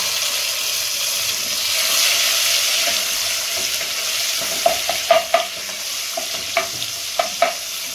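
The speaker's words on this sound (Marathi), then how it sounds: "टमाटर टाकते आता" Tomatoes go into a frying egg biryani masala with a steady sizzle, followed by a run of sharp stirring scrapes and clinks from a utensil against the pan in the second half; nobody talks.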